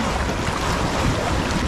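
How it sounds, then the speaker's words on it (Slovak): Warm healing spring water bubbles up from the bottom of a travertine spa pool, a steady, dense, close hiss and fizz that fills the space without a break and with no voices. "To len zo spodu idú bublinky."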